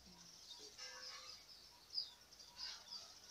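Faint high chirps and twittering of birds over a steady background hiss, with a few sharper calls standing out briefly.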